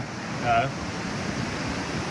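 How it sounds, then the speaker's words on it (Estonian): Ocean surf breaks and washes in a continuous broadband roar, steady and moderately loud, with a brief whistling tone early on and no talk. "Laine on natuke suurem."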